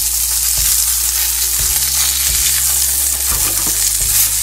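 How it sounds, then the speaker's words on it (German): Hamburger patties frying in a pan, with a loud, continuous sizzle and crackle interrupted by a few dull low thuds at irregular intervals, close up and without voices. "Wir lassen jetzt von jeder Seite 3 Minuten braten"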